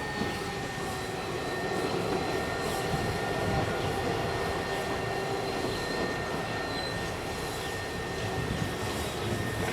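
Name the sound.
Manildra wheat train passing through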